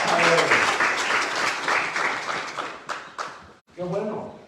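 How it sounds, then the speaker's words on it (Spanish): Church congregation applauding loudly during a Sunday morning service, a dense wash of clapping that tapers near the end, breaks off briefly, then swells again, with voices mixed in. "Denle un aplauso fuerte a él."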